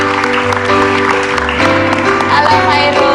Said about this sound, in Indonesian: Tepuk tangan dulu untuk Virus,